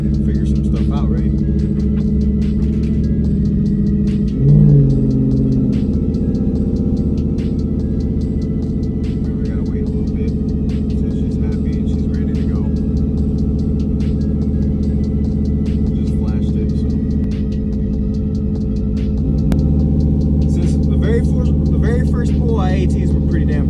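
A 2022 Ford F150 tuned to around 950 horsepower runs on a dyno, its engine a loud, steady low rumble with a slight rise partway through, while someone talks over it.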